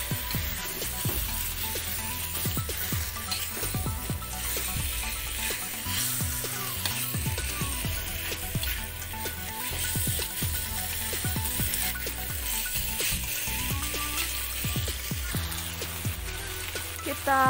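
Chicken pieces frying with fragrant yellow spice paste in a pan for a coconut-free Indonesian stir-fry: a loud, dense, continuous sizzle with crackling spatters and occasional stirring clinks, close up throughout, with no talking.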